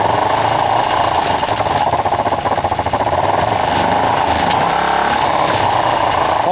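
Kawasaki ER5 motorcycle twin with carburettor, engine revving hard and held at high throttle, dense buzzy rattling tone with slight wavering, close and loud throughout with no talk.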